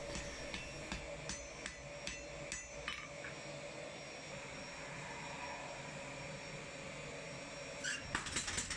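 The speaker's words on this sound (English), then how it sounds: "first I'll make just light blows with the handheld hammer" A handheld hammer strikes San Mai kitchen knife steel with light forging blows, a run of about eight sharp, fairly faint taps in the first three seconds over a steady workshop hum, then a few more quick strikes near the end.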